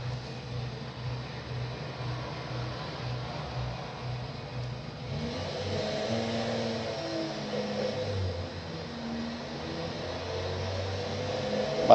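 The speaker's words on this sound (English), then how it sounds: "time for the sound. It even sounds like a diesel." Idling video game car engine with a diesel-like, lumpy low drone that is steady and close, with tones shifting slightly midway and no speech.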